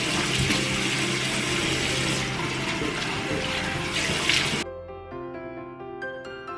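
Water runs steadily from a tap into a sink during face washing, then cuts off abruptly, leaving a faint tonal hum.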